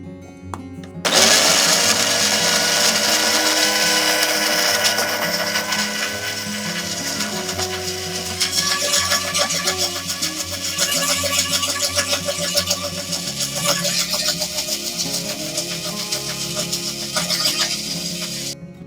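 A mixer grinder blends chopped cucumber, bottle gourd and tomato with a little water into juice, a loud steady motor whir with grinding rattle that starts abruptly and runs continuously, shifting pitch slightly partway through.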